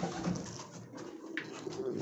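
Domestic pigeons cooing softly in a pigeon loft in freezing weather, some birds sitting on nests while others chase each other, with low rounded coos over a quiet background.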